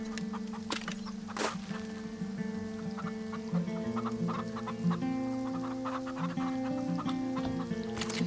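Chickens in the farming game Farm Together cluck repeatedly at moderate volume, with short clucks scattered over a steady low background hum, and no talking.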